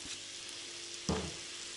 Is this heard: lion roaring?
no